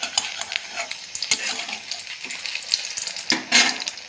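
Potato chops (aloo chop) deep frying in hot oil, a steady close sizzle with clinks and stirring scrapes from a utensil in the pan.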